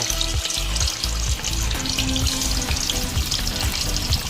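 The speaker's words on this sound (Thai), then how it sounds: "นี่แหละครับทอดไปเรื่อยๆนะครับ ทอดไปเนี่ยจนเรารู้สึกว่ามันกรอบ" Tofu frying in hot oil over medium heat, a dense, continuous crackling sizzle that stays loud and close throughout with no voices.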